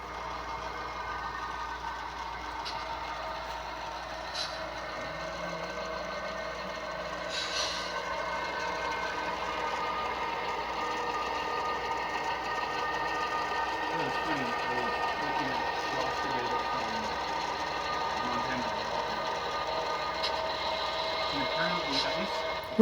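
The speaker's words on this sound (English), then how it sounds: "What I wanted to show you today was the sound of the dynamic brake" An HO scale model diesel locomotive's dynamic brake whine on a downhill coal train move, a steady droning hum with faint clicks, running under ongoing talk.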